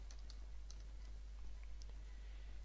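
Light, scattered keystrokes tap on a computer keyboard while a command is entered, faint and irregular clicks over a steady low electrical hum.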